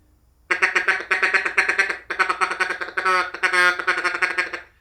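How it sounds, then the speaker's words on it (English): A duck call blown as a feed call in fast, rolling bursts of rapid clucking notes, several quick runs back to back, close and loud with no talk. "you want to go ticka, ticka, ticka, ticka, ticka. And that's a feed call."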